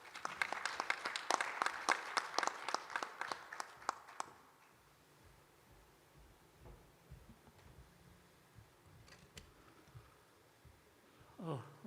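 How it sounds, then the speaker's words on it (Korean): An audience at a peace forum session claps briskly for about four seconds, sharp overlapping claps that fade out into quiet room tone with faint shuffling and a few scattered taps. "큰 박수 부탁드릴까요?"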